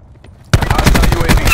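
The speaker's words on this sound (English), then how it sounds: "Enemy attack chopper above." Rapid automatic gunfire bursts suddenly after a quiet moment in an online military shooter video game with an enemy attack helicopter overhead, loud, dense and close, with a dull engine rumble beneath.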